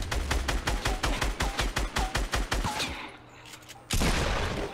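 Sustained automatic gunfire in Fortnite, a steady rhythmic string of loud shots for about three seconds, a short quieter stretch, then another loud burst.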